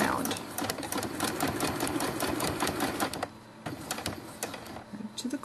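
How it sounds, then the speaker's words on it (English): A sewing machine stitches a dollhouse-size quilt with a fast, rattling run of needle strikes for about three seconds. A few slower separate stitches follow, and a voice speaks over it. "And we sew down this side."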